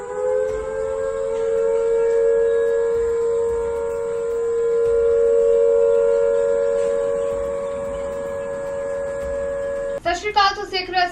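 Air raid sirens wail steadily across Chandigarh, one sustained tonal drone with stacked harmonics swelling and fading in slow waves, distant and continuous until a voice cuts in at the very end.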